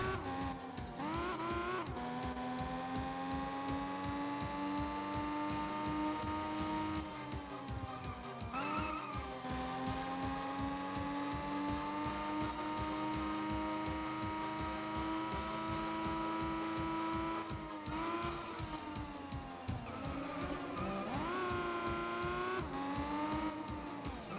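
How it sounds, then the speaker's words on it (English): A race car engine drones and strains continuously at high revs on dirt in the GameCube game GT Cube, its pitch wavering and surging repeatedly, loud and close throughout. "Ah, horrible noise. The car very unhappy about being parked on the dirt."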